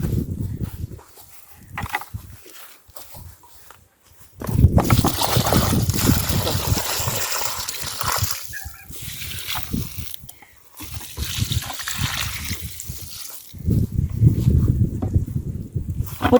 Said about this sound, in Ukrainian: Я влию зараз велике ведро води.